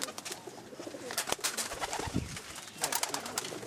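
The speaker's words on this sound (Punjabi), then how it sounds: "ਇਹ ਸਾਡੇ ਘਰ ਦੇ ਸਲਾਰੇ ਕਬੂਤਰ" Low, rolling coos from a flock of golden Salare pigeons at home rise and fall in short phrases, quiet and close, mixed with scattered clicks and flutters.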